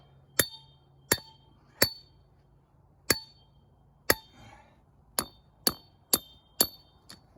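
Sharp ringing metallic taps from a hammer striking a driver wedged between rocks, about ten single strikes spaced roughly a second apart, close and clear with a faint scrape midway, no talking.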